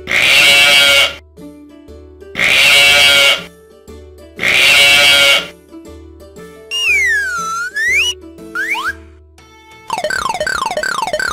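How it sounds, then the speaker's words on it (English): Three loud, close sheep bleats come in even succession, each about a second long with gaps between, followed by cartoonish whistling and sliding synthetic tones. "Sheep."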